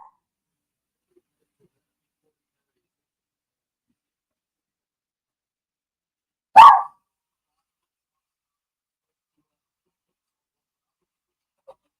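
A dog at a side door lets out one short, sharp bark partway through, with near silence before and after.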